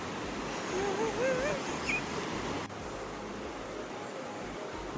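The River Tor near Belstone flowing in a continuous broadband rush of water, steady and fairly loud, with birdsong chirping over it early on and no voices.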